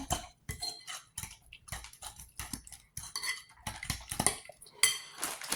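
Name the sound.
stirring fried ingredients in a pan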